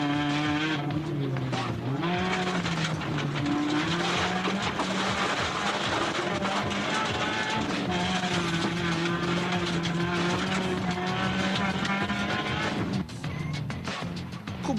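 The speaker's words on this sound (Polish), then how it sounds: "Renault Clio, braci Bonder." A Renault Clio rally car races along a stage of the 2005 Barbórka Cieszyńska rally, its engine wailing loud and close, rising and falling through gear changes for a long stretch before easing near the end.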